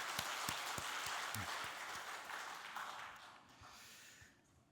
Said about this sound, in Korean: 우리 하나님께 크게 박수 한번 드리도록 하겠습니다.